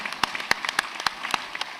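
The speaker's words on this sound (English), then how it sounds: "I want us to give a resounding round of applause to all our finalists" An audience at a tech fair applauds its finalists with scattered, fairly light clapping: a handful of sharp individual claps rather than a dense roar.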